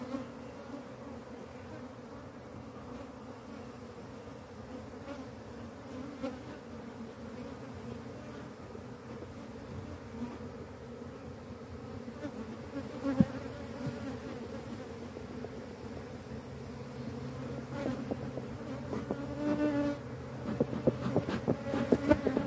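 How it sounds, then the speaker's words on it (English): Honeybees swarm and buzz steadily around an aggressive hive being split, a continuous close drone, with individual bees flying past and growing slightly louder toward the end. "So many bees, so many, many bees."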